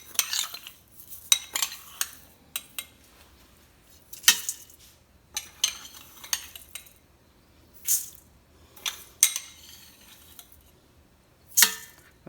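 Metal teaspoon clinks against a measuring spoon and the inner pot of an Instant Pot while seasoning is added for a shrimp boil, a series of sharp, close, bright taps and scrapes with quiet pauses between.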